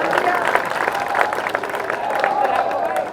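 Audience at a Hindi political speech clapping, a continuous patter of many hands with a voice or crowd murmur mixed in.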